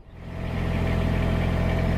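A Kubota BX23S tractor backhoe's diesel engine starts up and settles into a loud, steady, close running rumble with a regular low throb.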